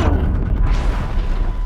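An explosion in the video game Horizon Zero Dawn rumbles with a deep, heavy boom that rolls on as a loud low-frequency roar and fades slowly, with no talk over it.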